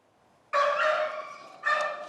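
A small rescued dog pulled from a storm drain gives two close, high-pitched yelping barks, the first drawn out and whimpering, the second shorter after a pause.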